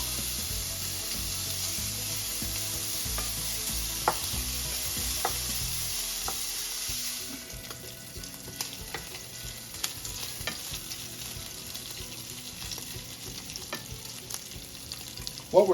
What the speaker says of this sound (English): Time to crisp up some bacon here.